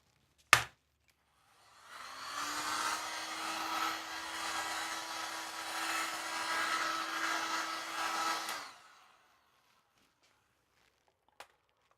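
A heat gun blows a steady whooshing blast of hot air for several seconds with a faint motor whine underneath, switched on after a click and then cut off, curing screen printing ink.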